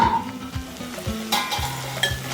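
Sliced capsicum fries in oil in a pan, a steady close sizzle punctuated by a few rhythmic stirring scrapes as the pieces are tossed.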